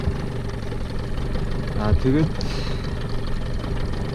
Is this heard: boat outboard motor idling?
yes